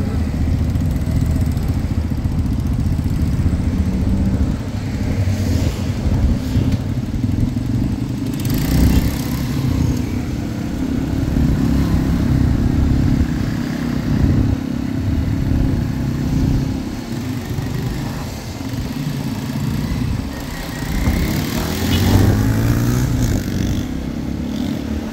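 A motorcycle rides through the streets of Xela, Guatemala, its engine a constant low rumble close by with passing traffic, clatter and occasional surges blending in throughout.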